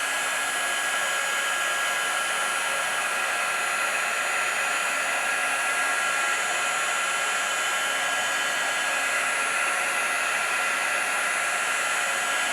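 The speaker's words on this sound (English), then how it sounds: "We're going to bring in our heat gun. And we're going to heat set from the bottom." A heat gun blows steadily while heat-setting rose gold embossing powder on a Christmas card, giving a loud, constant, hissing fan roar from start to finish with no talk.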